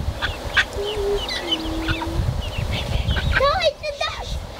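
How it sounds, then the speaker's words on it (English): A duck quacks at a pond edge, a few short honking calls close by, with people talking over and around them and other birds faint behind. "No, it's a duck!"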